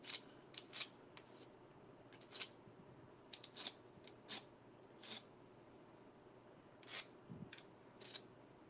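Scissors snip repeatedly in short, crisp bursts, some clustered in quick pairs, with quiet gaps between them at close range after being sharpened on a sharpener. No one speaks.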